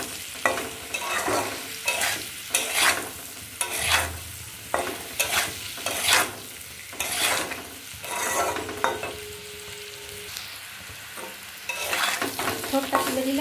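Potato and pumpkin chunks with salt and chili powder stir-fried in a pan, giving a steady close sizzle broken by repeated scraping stirs at an uneven rhythm, with no talk.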